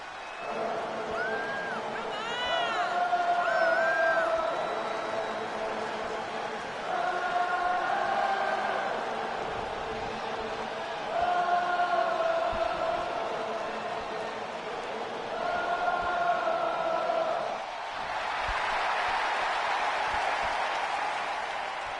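A virtual arena crowd in the wrestling game WWE 2K23 chants and sings in repeated rising waves for a champion's entrance, with a louder burst of cheering near the end; a commentator speaks between the chants.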